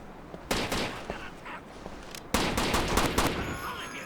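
Gunfire in the Rainbow Six 3 video game, with two heavy bursts of rapid shots and scattered single cracks, loud and close, with faint voices in the background.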